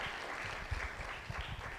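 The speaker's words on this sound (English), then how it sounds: "I think I need another applause for the last panel," Faint, distant applause from the audience at a climate roundtable in Mombasa, a soft steady patter of clapping lasting the whole moment.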